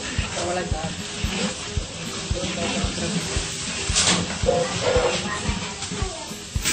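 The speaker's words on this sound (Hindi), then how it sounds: "टमाटर हमारे फ्राई हो रहे हैं और बस घुलने ही वाले हैं।" Tomatoes for a large batch of wedding-style chicken korma sizzle and hiss in a pot over high heat, a steady broadband frying noise with scattered crackles and spitting bursts, while a voice talks over it.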